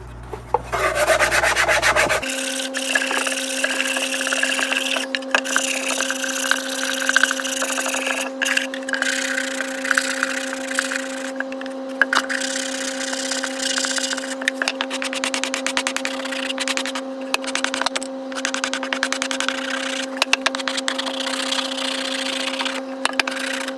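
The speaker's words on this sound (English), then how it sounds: "And finally, a little bit of sanding." Steady back-and-forth rasping of sandpaper on a wooden box ukulele back, rhythmic and close, continuing at length over a constant low hum.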